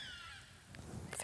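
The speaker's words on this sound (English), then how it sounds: "even though very noisy, aren't they, the black cockatoos?" Black cockatoos call outdoors, sending harsh, drawn-out cries through a faint, noisy backdrop with a few brief squawks overlapping near the end.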